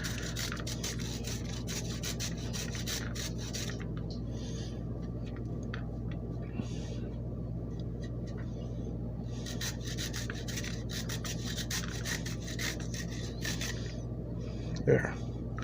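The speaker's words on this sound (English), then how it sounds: "so here we'll just grate a little bit more." Fresh turmeric root scraped across a grater for a fermented turmeric bug, giving steady close rasping strokes through most of the stretch, pausing briefly mid-way, with one sharper knock near the end.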